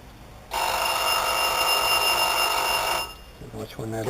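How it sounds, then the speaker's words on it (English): A Vulcan three-deck pizza oven timer rings with a loud, continuous electronic buzz for about two and a half seconds and then stops, followed by a voice talking nearby. "Timer should be going off any second now."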